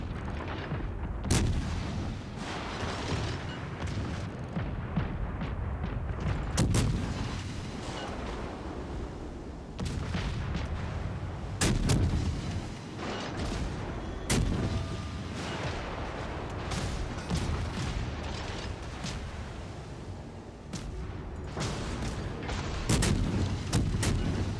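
Premium artillery burst fire in a video game, heavy booming shots recurring through a steady roar of wind and surf-like noise, with several loud blasts spaced irregularly across the stretch.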